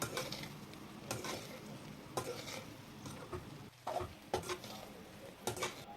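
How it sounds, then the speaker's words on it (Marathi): Bread pieces stir-fried in a pan for Marathi bread sheera, close sizzling under repeated scraping and clinking stirs of a spatula against the pan, with no voices. "आता यांना छान असं परतून घ्यायचं आहे बघू शकता या प्रकारे छान परतून घ्यायचं आहे"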